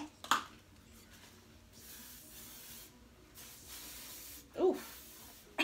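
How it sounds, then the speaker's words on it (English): Hairspray from an aerosol can hisses in a few brief, soft bursts, with quiet pauses between them. "one last thing was my hairspray"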